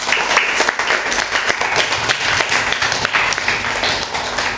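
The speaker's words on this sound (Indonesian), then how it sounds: "Tepuk tangan dulu untuk kita semuanya." Classroom applause from pupils during a lesson: dense, loud clapping that runs steadily the whole time without pause.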